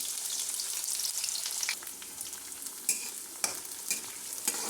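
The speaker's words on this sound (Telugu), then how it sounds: "ఇప్పుడు ఆనియన్స్ వేసుకుందాము. ఈ ఆనియన్స్ అన్నీ వేసేసుకుందాము." Two small onions frying in oil as they are stirred, a constant soft sizzling hiss broken by a few sharper spoon scrapes and taps against the pan, no talking.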